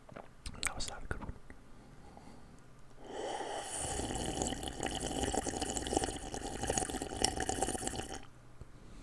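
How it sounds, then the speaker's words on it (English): Liquid pours steadily for several seconds, a broad splashing rush that rises abruptly and cuts off, preceded by a few soft taps and quiet rustles; the sound is close and intimate, with no talking over it. "Some good water sounds."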